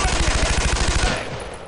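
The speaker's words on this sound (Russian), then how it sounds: "Слышите этот звук, это Браунинг стреляет." A Browning machine gun fires in the World War II video game Brothers in Arms: Road to Hill 30, a loud continuous burst of rapid rattling shots that stops and fades into the surrounding battle noise.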